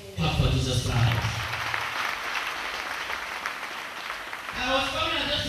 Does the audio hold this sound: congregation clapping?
yes